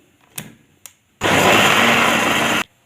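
A blender whirs loudly and steadily for over a second as it mixes cake batter of beaten eggs, sugar, vanilla, vinegar and milk, after two short faint clicks.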